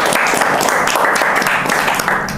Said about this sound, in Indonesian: Tepuk tangan dulu untuk Sanchez dong.